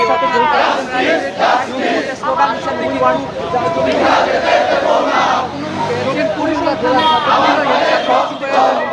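A large crowd of students at a protest march in Dhaka chants slogans in loud, rhythmic unison, the voices rising and falling in repeated call-like phrases that carry steadily throughout.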